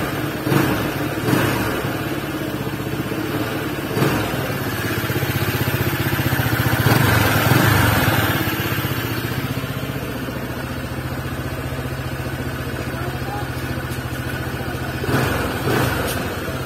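A Honda ADV scooter engine runs steadily at idle, a close, continuous mid-pitched drone with slight swells in revs throughout.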